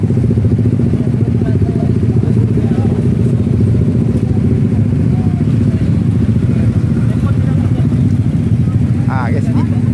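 A motorcycle engine idles loudly and close by at a roadside meetup of a big-tyre motorcycle group in Sabah, a steady throbbing rumble throughout.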